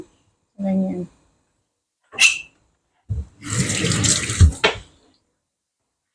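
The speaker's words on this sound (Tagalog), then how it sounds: "Diba nilagyan natin yan ng tubig?" Tap water running into a container for cooking, a short gush of flow after a few brief spoken words, loud and close, followed by a quick clatter.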